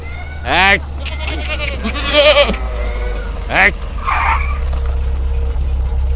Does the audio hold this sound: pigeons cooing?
no